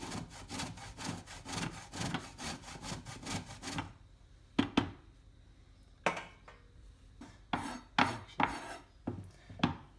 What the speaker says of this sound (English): So you can simply shave it with a knife just to get it into as fine a powder as possible.